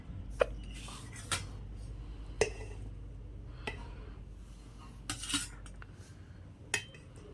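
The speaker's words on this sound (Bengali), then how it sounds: "এখানে আমি ভাত বেড়ে নেব।" A metal spoon serves rice onto a plate, with a series of sharp clinks and scrapes against the dish spaced a second or so apart, quiet and close by.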